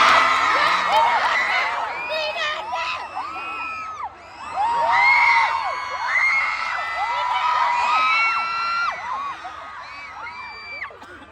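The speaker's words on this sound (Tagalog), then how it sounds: "Hindi na niyo sumigaw, hindi pa nababasag ang eardrum ko." A large crowd at a public appearance in Ormoc City screams and cheers loudly and continuously, with high shrieks and whoops layered over a dense roar that dips briefly then surges back.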